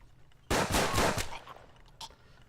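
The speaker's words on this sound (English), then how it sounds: "we are actually in range for these shots with our 6 shooter" Six-shooter revolver gunshots in the Hard West game, a loud burst of several rapid cracks, then a fainter single report about a second and a half later.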